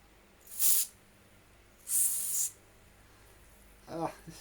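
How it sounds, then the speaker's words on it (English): White lithium grease is sprayed from an aerosol can onto the bearings of a Hoover Junior vacuum cleaner in two short, close hissing bursts, followed by a brief low murmur. "not silicon, white lithium grease"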